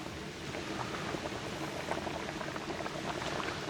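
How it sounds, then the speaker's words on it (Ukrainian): A steady, bubbling simmer of meat boiling in a pot for pilaf, continuous and moderately quiet, with soft popping bubbles throughout and no voices. "вже наше м'ясо кипить десь годинку"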